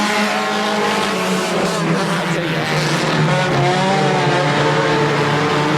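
Dirt race cars roar around the track at Airborne Speedway in Plattsburgh, New York, a dense, continuous engine howl with tire squeal, loud and close, while a voice speaks briefly over it.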